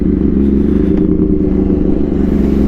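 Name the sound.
motorcycle riding on a rough flooded road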